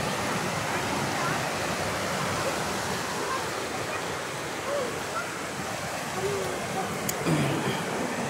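River water rushing steadily as a broad, continuous roar, loud and close, with a faint voice now and then under the flow.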